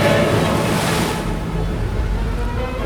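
Rough sea at force 7, a continuous loud roar of wind-driven waves and surf close by, with a heavier rushing surge early on that eases into a steady churning wash.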